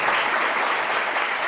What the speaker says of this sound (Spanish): Con un fuerte aplauso para mí